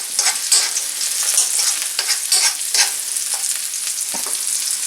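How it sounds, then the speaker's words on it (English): Chopped onion, garlic and green onion hitting hot oil in a pot, a loud close crackling sizzle with bursts of spattering and stirring scrapes over about five seconds, no talk. "the onions and the garlic and the green onion that we just chopped up, I'm going to add it to the pot"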